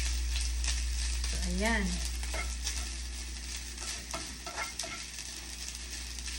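Longganisa sausage crackles and sizzles in an oily pan, a close, continuous frying hiss with spatula scrapes, while someone talks briefly near the start.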